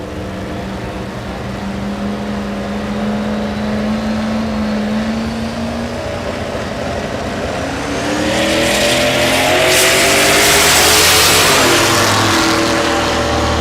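Drag racing cars at Texas Motorplex in Ennis, Texas, with a loud engine droning and rising in pitch as the cars launch and accelerate, swelling to a roaring peak before fading, heard from nearby.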